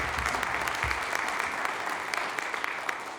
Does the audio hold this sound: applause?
yes